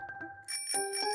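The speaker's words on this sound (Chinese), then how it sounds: "铃声也很清脆。" A bicycle bell rings in the game Love and Deepspace, with a few soft taps and then several bright, crisp dings in quick succession, close and clear.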